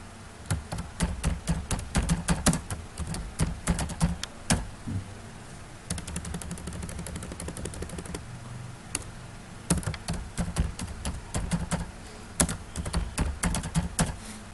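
Rapid, steady clatter of keys on a computer keyboard, typing text into a word processor, with bursts of quick taps broken by brief pauses, close and clear with no talking.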